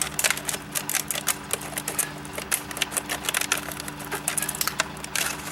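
Tin snips cutting open packaging material near a stucco wall, a quick series of sharp crunching snips in an irregular rhythm, close and moderately faint, with no talk.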